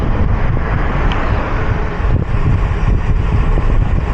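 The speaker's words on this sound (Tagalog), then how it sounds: "Lakas ng hangin." Strong wind buffets the microphone while a cyclist rides along the Emilio Aguinaldo Highway between Tagaytay and Imus, Cavite, a loud, constant low rumble with faint traffic noise beneath it and no talking.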